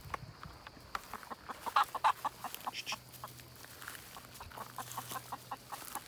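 A hen clucks in short, soft bursts at a farmyard, with scattered clucks and a few louder calls over faint background noise, no voices over it.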